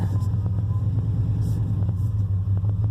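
A small manual-transmission truck with a bad head gasket idles with a steady, rumbling engine drone. A few faint knocks and clicks sound over the engine.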